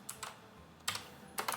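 Quick bursts of typing on a computer keyboard: a couple of keystrokes, a pause, then two quieter flurries of clicks, close and faint in a still room.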